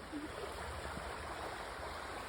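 Mount Doug Creek flows steadily down a gentle gradient, a continuous soft rushing and gurgling of water heard up close at a low, even level with no voices.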